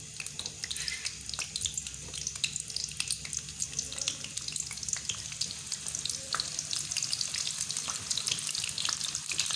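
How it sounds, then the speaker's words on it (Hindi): Onions frying in hot ghee for chana pulao, a steady close sizzle and crackle with faint watery hiss running throughout, no voices. "प्याज को कर लेते हैं हम ब्राउन।"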